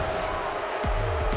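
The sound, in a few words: football stadium crowd reacting, wanting a flag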